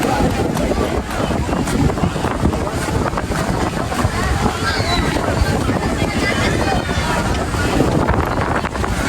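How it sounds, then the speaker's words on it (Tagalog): Heavy wind roars steadily against the mic for the whole stretch, loud and unbroken, with waves and faint voices beneath it. "Hangin na master."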